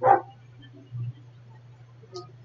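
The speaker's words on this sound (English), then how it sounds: "Listen to his barking and watch his body language." Bullet the dog barks in the Blair Witch video game, with one sharp close bark, a second shorter bark, then a faint whine over a low steady hum.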